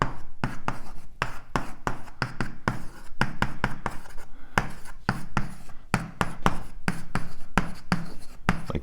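Chalk or marker strokes on a board as cosmology equations are written out, a close, steady series of quick taps and scratches with no talking.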